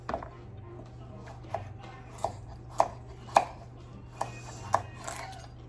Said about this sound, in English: make sure my fingers are out of the way of the knife as I'm waving my knife around. So I'm just gonna do that to the rest of my carrots